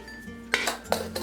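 A metal level plate set inside a pressure cooker gives two quick, close metallic clanks a moment apart, each with a short ring, over quiet kitchen background.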